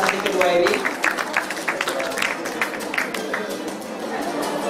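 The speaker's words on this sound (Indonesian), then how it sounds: "Tepuk tangan untuk pembicara kita." A seminar audience at a national conference at IPB claps for the speaker, a dense patter of many hands that starts strong and tapers off over a few seconds, with a voice over the top.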